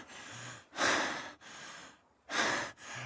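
Heavy breathing in a Family Guy cartoon: loud breaths alternate with quieter ones, several long rasping inhales and exhales in a slow, uneven rhythm, close up with no talking.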